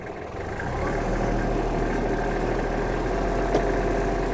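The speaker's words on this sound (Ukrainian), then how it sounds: "Знімаємо трактор з тормозу, піднімаю на навіску і давайте трішечки проїдемось." A Kubota L1-215 Japanese mini tractor's engine runs at a steady, even idle, close and continuous throughout, with a slight rise in loudness early on.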